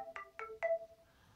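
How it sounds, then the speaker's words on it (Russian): A ringtone melody plays on a Nokia N9 phone: three short, bright tonal notes in quick succession, the last held briefly, faint and alone with no talk. "что касается нотификации и уведомлений, то выбирается мелодия звонка"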